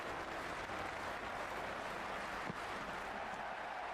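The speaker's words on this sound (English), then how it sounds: "this crowd is already making it hard for me to be heard." Stadium crowd roars steadily at a Zimbabwe versus West Indies World Cup cricket match, a loud, dense wash of cheering that holds constant throughout with no letup.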